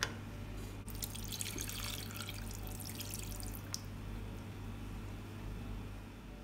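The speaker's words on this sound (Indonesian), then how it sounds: "airnya kurang, saya tambahin air biasa" Tap water runs steadily into a pot of beef being boiled for Padang-style dendeng balado, a continuous close splashing and gurgling flow with a low hum underneath, and no talk.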